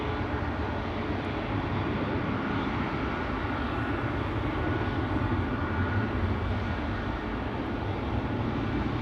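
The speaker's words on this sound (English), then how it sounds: "an A220 right in the face here. This is Air France Flight 1241 to Paris-Charles de Gaulle." An Air France Airbus A220 airliner at Schiphol Airport gives off a steady, broad engine roar that holds at a constant level throughout, moderately distant with no voices.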